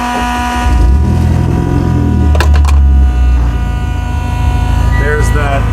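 Idling 2011 Mitsubishi Evo X track car with an aftermarket fuel pump in its surge tank, giving a steady high electric whine over the loud rumbling idle, with a brief rev in the middle.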